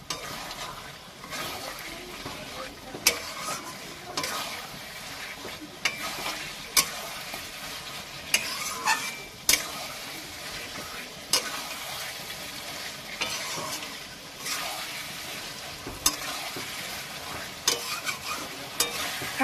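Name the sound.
mutton being sautéed and stirred in a pan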